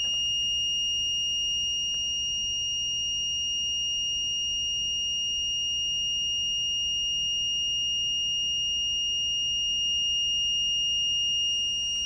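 An Arduino temperature alarm, set off by a DHT11 sensor reading reaching 45 degrees, sounds a steady, unbroken high-pitched electronic tone for the whole stretch, fairly loud and alone.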